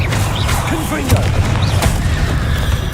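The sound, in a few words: Confringo explosion spell in Hogwarts Legacy video game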